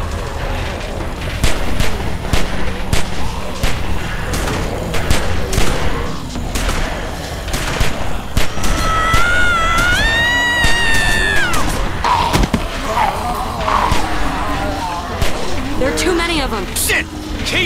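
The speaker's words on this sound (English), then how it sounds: "Keep shooting!" Repeated gunshots in The Walking Dead: Season Two game, sharp cracks ringing out steadily through a chaotic fight, mixed with shouting voices and a high wailing cry in the middle.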